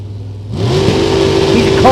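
A Super Gas class drag racing car at a national open event launches and accelerates hard down the strip, its engine roar rising suddenly out of a quiet start and holding loud and steady, with a commentator talking over it.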